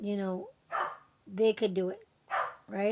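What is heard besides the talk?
dog barking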